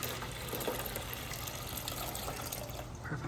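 Water pours steadily into a humidifier tank, a continuous close gushing and filling sound that lasts throughout the short clip without talk.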